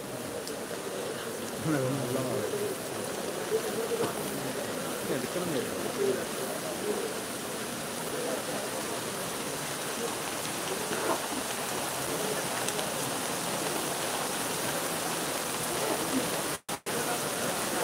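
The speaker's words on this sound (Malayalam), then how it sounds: "മഴ കൂടുതൽ ശക്തി പ്രാപിച്ചു" Heavy rain pouring steadily at Kottiyoor temple during a festival, a dense continuous hiss of drops on surfaces that holds constant throughout, with a faint voice in the background.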